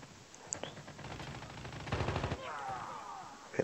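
Rapid bursts of AK-47 automatic gunfire in Call of Duty Mobile, loud and close, with repeated fast volleys through most of the stretch.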